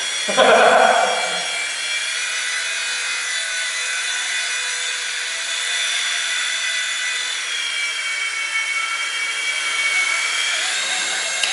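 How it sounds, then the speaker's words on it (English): A radio-controlled model helicopter flies nearby with a sustained high-pitched rotor and motor whine that holds steady, shifting slightly in pitch, after a short burst of sound at the start. "so that's the helicopters"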